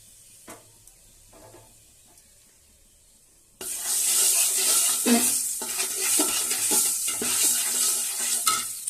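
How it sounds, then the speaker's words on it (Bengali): Ghee and turmeric powder sizzling loudly in a wide pan while being stirred, beginning abruptly after a quiet stretch with a few faint clinks, then a steady hissing fry with scraping stir sounds. "এবার দিয়ে দেবো ঘি, এবার দিয়ে দেবো একটু হলুদ গুঁড়ো"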